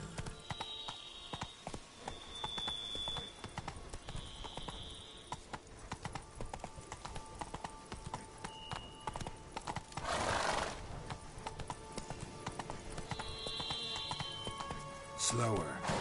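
Hooves of Roach, a horse from The Witcher 3, clip-clop at a gallop with a neigh or two, steady and close over game music, while a person talks over it.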